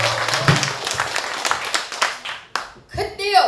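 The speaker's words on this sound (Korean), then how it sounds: "오지은 소리꾼에게 큰 박수 보내주시기 바랍니다" Applause from an audience at a pansori performance rises as a dense patter of clapping, fading and thinning toward the end as a voice comes in.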